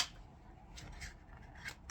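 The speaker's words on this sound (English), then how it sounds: "Tell me when to stop shuffling." Tarot cards shuffled by hand in a few soft, papery bursts of riffling and rubbing, quiet and close against a low background hum.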